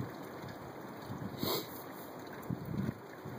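Steady wind rushes and buffets the microphone in a constant low roar outdoors on a chilly morning, with a few stronger gusts thumping through.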